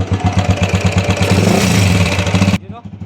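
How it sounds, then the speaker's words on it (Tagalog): A Honda TMX 155 motorcycle engine runs close up with a fast, throbbing putter that cuts off abruptly near the end. "So TMX 155, pakinggan nyo mga idol,"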